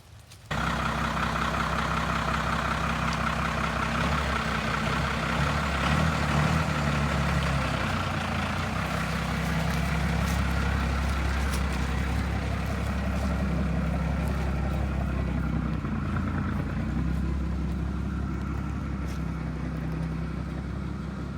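A 1947 Chevy truck fitted with a 12-valve Cummins diesel idles steadily and loudly nearby, a constant low rumbling drone with no talk.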